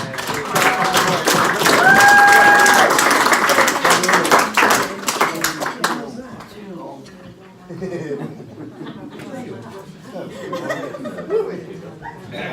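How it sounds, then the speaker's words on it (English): A crowd at a wedding applauds loudly for several seconds after the best man's speech, with a whistle rising above the clapping. The applause then gives way to chatter and chuckling. "a big round of applause to Natalie"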